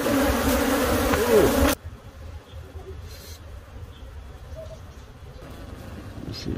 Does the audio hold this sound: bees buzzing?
yes